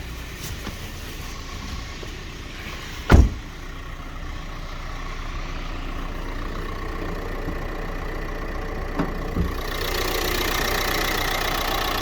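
A Renault Megane 3 with a 1.5 K9K diesel engine and 158,000 km on it idles with a steady, even rumble, broken by one sharp knock early on, with no talk over it.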